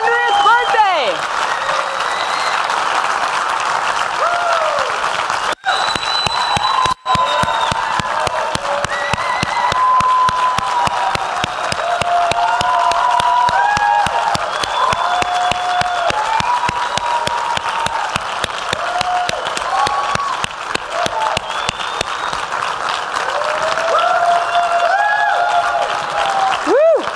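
Audience applause at a 100th birthday centennial event, sustained loud clapping from a large crowd for nearly half a minute with scattered cheers and voices mixed in.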